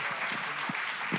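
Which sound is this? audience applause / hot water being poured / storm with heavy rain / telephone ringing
audience applause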